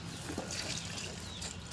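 Herbal water is poured onto plants in a terrace garden, making a soft, brief trickling splash that stays quiet and close, with no talk.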